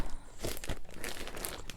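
Paper being crumpled and pulled away close by, a quick run of crinkling and rustling crackles with a few sharper crunches.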